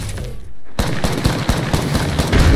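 Video game gunfire in a shooter match, rapid bursts of close, loud automatic shots after a brief lull, continuing steadily to the end.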